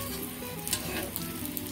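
Corn roti (makke ki roti) cooking in desi ghee on a griddle, a close crackling sizzle with brief scraping touches, steady and fairly quiet, no talking.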